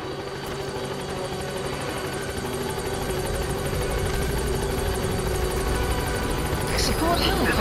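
Support helicopter in Metal Gear Solid V approaching, a steady loud rotor drone that holds throughout and swells slightly toward the end, with radio-style talk over it.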